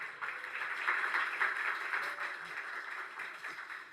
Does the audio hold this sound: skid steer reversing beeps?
no